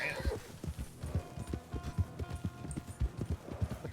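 Horse hooves clip-clop at a steady trot in the Red Dead RedM game, a rapid rhythmic series of thuds, with a brief whinny near the start.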